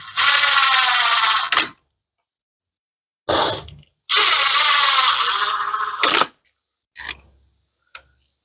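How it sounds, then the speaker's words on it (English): Quarter-inch ratchet hand-tightening motorcycle clutch bolts on a Suzuki Hayabusa, a few close, crisp bursts of rapid pawl clicking separated by pauses, with quick short clicks near the end. "I'm going to hand tighten them with a ratchet"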